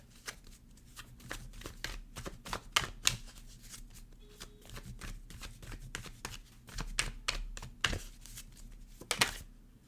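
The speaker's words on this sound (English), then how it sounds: "these cards are just sliding around" A deck of tarot cards is shuffled by hand, giving quick, soft, dense riffling and slapping sounds with brief pauses as the cards slide against each other. The sound is close and quiet, with no talking.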